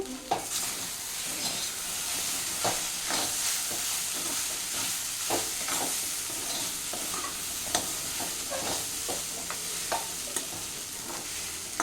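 Okra fry being stirred in a pan after chili powder goes in, a steady sizzle with repeated scraping strokes of the spoon across the pan, close and continuous with no voices.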